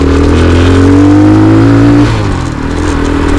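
Alfa Romeo car with a newly fitted engine accelerating through a gear, its loud, close engine note rising in pitch, then dropping at a shift and pulling again.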